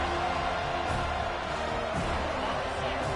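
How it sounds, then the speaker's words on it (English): Crowd cheering in a college football video game, a broad steady roar of noise rising behind the defense on third down, with no clear individual voices. "Decibels rising as the crowd gets behind this defense on third down."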